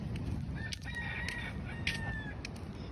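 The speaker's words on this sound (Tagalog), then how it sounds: "Lahat po kahit doon sa kainan ng pinuntahan namin, nakagala lang mga manok." Free-roaming chickens outdoors in Kauai, Hawaii, with a rooster crowing twice in drawn-out calls, clucking around it and a low rumble of background noise.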